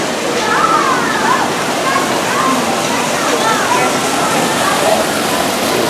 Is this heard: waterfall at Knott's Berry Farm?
yes